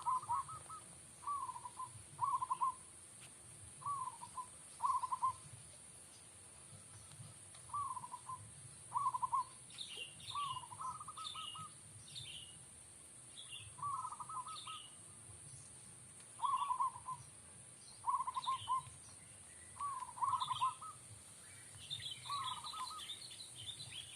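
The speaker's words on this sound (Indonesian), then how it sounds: "perkutut lokal Lampung" Local zebra dove (perkutut) from Lampung cooing in steady repeated phrases, each a short burst of a few rolling notes, with higher chirps from other birds joining midway, all under a constant high-pitched insect-like whine.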